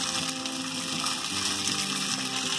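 Cooked rice tipped into a ghee-coated kadhai over a low flame for narali bhat, giving a steady, dense hissing and sizzling wash that stays even and fairly loud throughout, with no voices.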